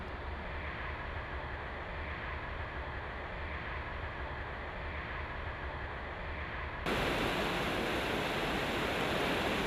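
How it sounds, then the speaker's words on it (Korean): Water rushes over the rapids of the Kinzig river in a steady, broad roar, growing louder and brighter partway through. "요란한 물소리를 내는 이곳이 그렇게 해서 만들어진 킨찌히강 여울입니다"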